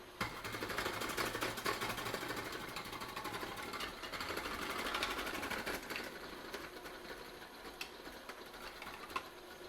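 A KitchenAid food processor runs on low while an onion is pushed down the chute, giving a steady close mechanical whir with rapid chattering and occasional knocks, no voices.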